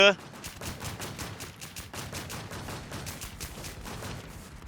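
Rapid automatic gunfire in a shooting video game, sustained bursts of close, loud shots running almost continuously, with possible talk underneath.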